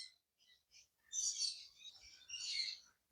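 Pet lovebirds, a pair of lutino opaline red-eyes, chirp in short scattered calls, then break into two louder bursts of rapid, close chattering.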